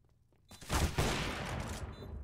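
Gunfire from a Desert Eagle pistol in Counter-Strike, a sudden loud burst of shots followed by a sustained noisy wash of game sound, with no talking.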